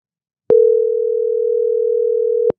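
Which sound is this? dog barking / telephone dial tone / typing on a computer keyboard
telephone dial tone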